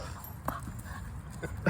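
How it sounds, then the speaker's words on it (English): A dog in the woods makes faint soft sounds, a couple of brief whimpers or yips amid rustling and low outdoor background. "I think Jeremy's adopted a dog."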